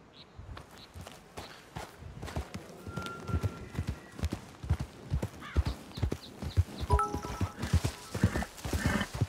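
Horse hooves clip-clop steadily on the ground in Red Dead Redemption 2, a brisk regular walking rhythm that is close and fairly loud throughout, with a few faint tonal game sounds in the background.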